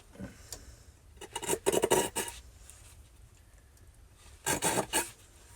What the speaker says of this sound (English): I'm gonna kind of go around it with a saw there